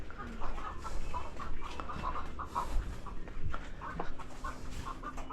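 Chickens on a small egg farm clucking at close range, with irregular short clucks and calls over a busy farmyard background and no clear talk.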